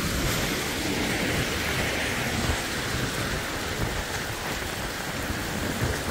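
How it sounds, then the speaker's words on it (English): Heavy rain pours down steadily on the Atlanta BeltLine, a dense loud hiss with no pauses, filling the whole scene without any voices. "this rain's so bad"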